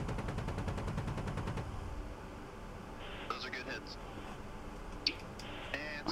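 Rapid burst of cannon fire from an Apache helicopter in the DCS combat flight simulator, a fast rattling string of shots for about a second and a half, followed by quieter cockpit noise, scattered clicks and a voice talking.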